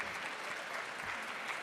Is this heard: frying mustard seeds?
no